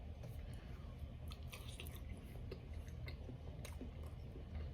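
Someone eats Great Value French toast bites with syrup, giving faint, close, irregular chewing and soft crunching with small clicks over a low steady background hum.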